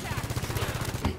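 Rapid automatic weapon fire in the Halo 5 campaign, a short burst of evenly spaced loud shots lasting about a second.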